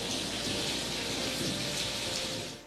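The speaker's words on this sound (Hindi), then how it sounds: "गरज चमक के साथ मूसलाधार बारिश" Heavy rain pours down during a thunderstorm in Abbottabad, Haveliyan and the Galiyat, a dense, steady hiss of downpour heard close and loud, fading at the end, with no distinct thunder.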